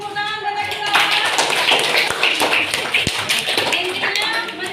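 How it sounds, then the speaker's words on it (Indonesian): Audience clapping at an Indonesian university teacher-training presentation on halal products, a dense, steady patter of many hands filling the room at close range, with voices talking faintly underneath. "Oke, beri tepuk tangan buat kita."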